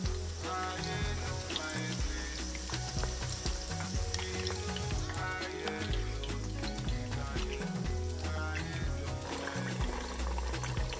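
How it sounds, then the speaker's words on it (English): Onions frying in hot oil for Nigerian jollof rice give a steady, close sizzle that runs the whole time beneath prominent background music. "we add some onions to a hot oil first. Like, you need to leave it to fry until it's brown"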